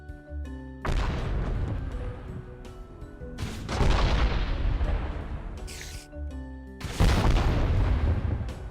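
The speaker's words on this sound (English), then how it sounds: "I've been firing these grenades all over the place" Grenade-launcher rounds exploding in a Minecraft Techguns mod game, three heavy booming blasts with rumbling tails in quick succession, loud and close, no talking.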